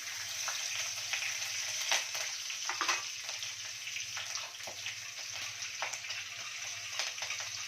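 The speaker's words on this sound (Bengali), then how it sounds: "সর্ষে সম্বার দিয়েছি, এখন কারি পাতা ছেড়ে, আর লঙ্কা, 2টো কাঁচা লঙ্কাও দিয়ে দিয়েছি।" Mustard seeds, curry leaves and two green chillies sizzle in hot oil as a tempering for dhokla, a soft continuous crackling fry with scattered small pops and a low steady hum beneath, fairly quiet and without talk.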